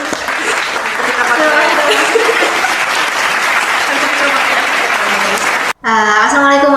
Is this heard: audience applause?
yes